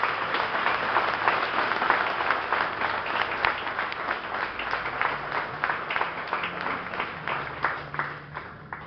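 Sustained applause from a crowd, dense steady clapping with no voices, holding at an even level throughout.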